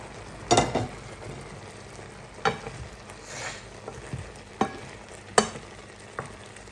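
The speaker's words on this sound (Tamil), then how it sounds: "இப்போ தக்காளி பழம் இறால் எல்லாம் சேர்ந்து அப்படியே அவிஞ்சு பொறிஞ்சு கொண்டு இருக்குது" Prawns and tomatoes frying and simmering together in a pan, with a low steady sizzle broken by a few sharp, close stirring clatters spaced a second or two apart.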